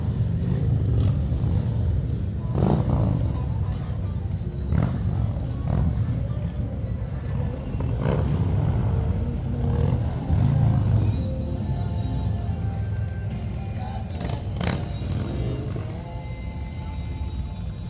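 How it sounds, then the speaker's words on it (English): Harley-Davidson motorcycles of the Cave Country HOG chapter roll past in a Veterans Day parade, a steady low engine rumble with several louder swells as bikes pass, over outdoor crowd noise and faint voices. "They enjoy riding their motorcycles for a cause"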